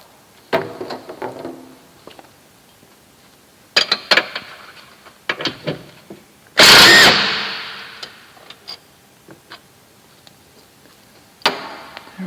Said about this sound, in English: we'll start off with removing the bolts from this one and taking it off